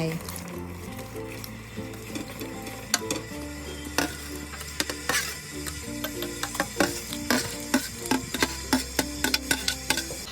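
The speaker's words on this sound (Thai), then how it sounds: "แล้วก็คนให้เข้ากันรอให้เขาเย็นตัวแล้ว" A spoon or utensil stirs grass jelly into just-boiled water in a pot, giving repeated clinks and scrapes that quicken toward the end, close up over low background music.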